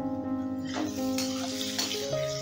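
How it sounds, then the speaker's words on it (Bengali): Potato pieces fry in hot oil in a pan over raised gas heat, giving a continuous close sizzle with light stirring and scraping noises throughout. "এবারে ভেজে নিচ্ছি লাল লাল করে"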